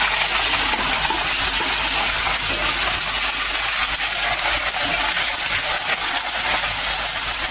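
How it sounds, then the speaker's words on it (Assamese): A steady, loud sizzling hiss of onions frying in hot oil, continuous and close, with no voices. "তেলখিনি গৰম হ'লে মই পিঁয়াজখিনি ইয়াতে ঢালি দিছোঁ।"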